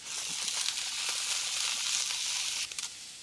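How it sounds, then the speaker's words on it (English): Green onions sizzle in a hot pan, a bright steady hiss at moderate volume with faint scraping as they are stirred, then the sizzle eases slightly, nobody speaking. "And I'm going to put my green onions in"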